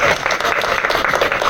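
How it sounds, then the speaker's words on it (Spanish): Applause from an audience at a medical conference on gynecology, steady close clapping from many hands filling the short moment, with faint crowd murmur beneath. "Aplausos para la doctora."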